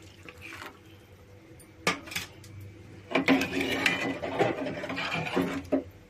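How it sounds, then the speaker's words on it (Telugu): Water is poured into a pot of sambar on the stove, giving a rushing, splashy pour after a few quiet seconds with scattered clinks of utensils. "నేను కొంచెం పోస్తా నీళ్ళు."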